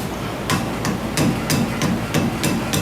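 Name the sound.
small sledgehammer tapping a cap off a brake rotor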